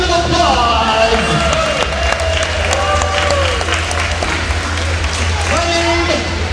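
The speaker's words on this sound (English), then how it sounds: "Give yourselves a big round of applause!" An audience at a live stage show applauds and cheers loudly, with dense clapping, whoops and shouting voices throughout, and a performer speaking over the crowd.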